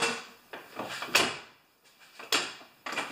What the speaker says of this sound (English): let's just do a quick door close test.